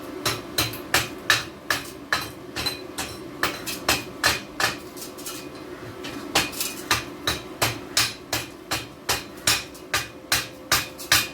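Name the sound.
chipping hammer striking metal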